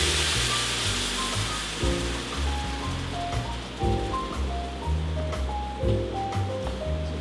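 Heavy whipping cream poured into a hot pan with browned gnocchi for the sauce makes a bright hissing sizzle that fades over a few seconds, partly masked by music playing throughout.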